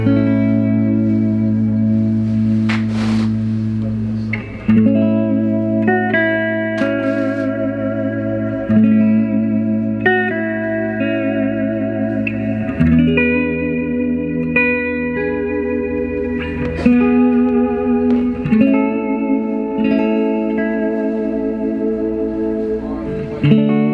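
A 1963 Fender Jazzmaster played through a 1967 Fender Super Reverb amp on the rhythm selector, picking out Silent Night as sustained, reverb-washed chords and single notes that ring continuously and up close, with no talking.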